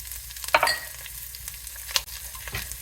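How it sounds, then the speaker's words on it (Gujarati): Oil crackles with a bright sizzle as mustard seeds, cumin, curry leaves and red and green chilies hit the pan, followed by a few spoon scrapes and stirring clatter, close and moderately loud. "આપણે વઘારમાં લઈ લીધી છે રાઈ, જીરું, લીમડો."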